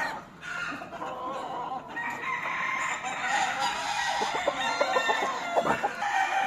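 Gamecock roosters crowing and clucking at a breeding farm in Spain, several birds close by overlapping in long crows and short clucks, with no voices.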